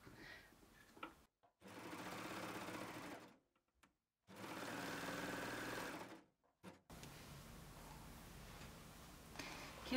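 A baby lock overlock serger stitches across overlapping seam ends, running in two long continuous bursts with short pauses between and then a third steady run, loud and close with no talking.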